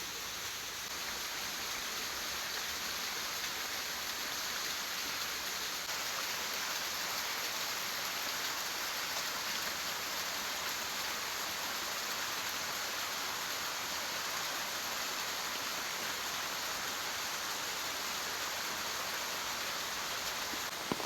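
Rain falls in a forest beside a waterfall as a steady, dense hiss that holds evenly throughout, with no voices.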